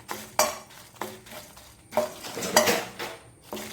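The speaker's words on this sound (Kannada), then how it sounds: "ಇದನ್ನು ಒಳ್ಳೆ ಫ್ರೈ ಮಾಡಿಕೊಳ್ಳೋಣ" Coriander and cumin seeds frying in a pan for a Mangalorean mackerel gravy, with a soft sizzle under repeated clinks and scrapes of a spoon stirring against the metal pan, close and fairly loud.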